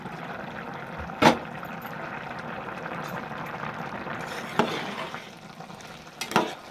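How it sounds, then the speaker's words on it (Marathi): Chicken mandi simmers in a covered pot on low heat, giving a continuous soft bubbling sizzle broken by a few sharp clanks of a lid or utensil. "ह्याला उकळी चांगली आली म्हणजे आवाज येतोय बाहेरपर्यंत."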